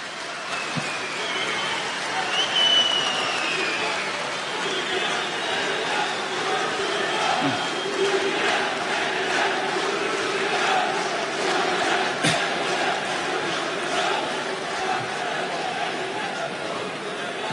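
A large crowd at an AKP party congress chants and cheers continuously, a dense, loud roar with rhythmic shouting and a sharp clap-like hit near the end.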